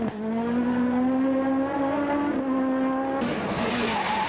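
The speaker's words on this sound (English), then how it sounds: "Van der Valve flying in Formula 2, now he's really got the car fully sorted." A Mitsubishi rally car races flat out on a tarmac stage at the 1998 Ypres Westhoek Rally in Belgium, its engine holding a loud, steady high-revving drone with brief shifts and a slight drop near the end, with no talk over it.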